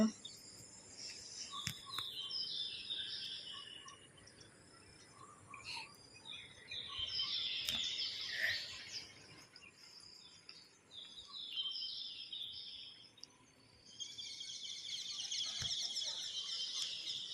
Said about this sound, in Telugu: పిచ్చుకల అరుపులు ఉంటే ఖచ్చితంగా ఉంచేస్తున్నాను న్యాచురల్ సౌండ్ లాగా ఉంటుందని